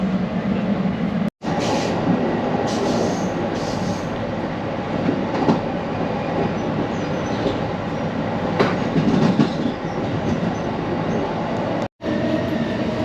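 Inside an Amtrak Pacific Surfliner passenger car led by a Siemens SC44 Charger locomotive, running between Anaheim and San Diego, California, with a steady rumbling roar of wheels and track, faint rhythmic clatter and occasional squeals.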